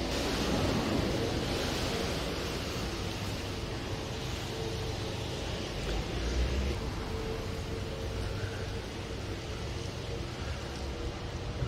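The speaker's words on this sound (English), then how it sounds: "So I'm just going to take you up to these little fountains which are currently working." Kinetic bucket fountain at Beetham Plaza in Liverpool city centre, water splashing and pouring in a steady, continuous outdoor wash with no talk.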